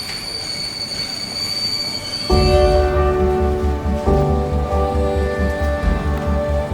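A Nandigram Express train pulls into a railway station, its wheels squealing in sustained high tones before a loud, rhythmic clatter of wagons rolling over rail joints takes over, close and steady with no talking.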